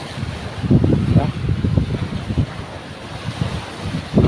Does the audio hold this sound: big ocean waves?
yes